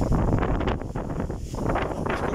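Gusty wind buffeting the microphone outdoors at a roadside rest stop beside a large tree, a dense continuous rumble with slight surges and dips throughout.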